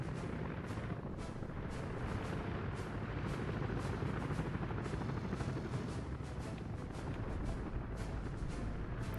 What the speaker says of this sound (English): Helicopter, dude.